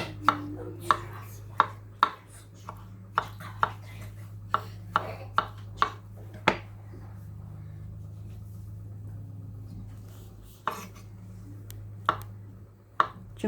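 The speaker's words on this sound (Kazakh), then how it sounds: "Сәбізді тураймыз 4 бұрышты етіп" A knife chops carrots into cubes on a board for a Kazakh salad, giving a dozen or so sharp, irregular taps with a pause in the middle, over a steady low hum.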